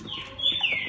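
Black-headed bird, a Bac Lieu 'huýt cô' songbird, feeding on bran gives a short high whistling call, brief and fairly faint against low background noise.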